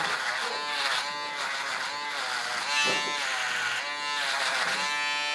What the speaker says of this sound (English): Foil shaver has 2 flexible heads for a reason.